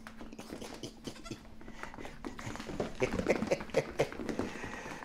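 Baby goats shuffle and patter around a pen, with faint hoof taps and a few soft bleats building slightly toward the end, heard at low volume.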